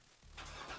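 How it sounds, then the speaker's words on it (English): A Chevrolet Corvette sports car engine surges in after a brief quiet moment and holds a full, close mechanical roar for under a second. "You hear that? That's the sound of America's only sports car."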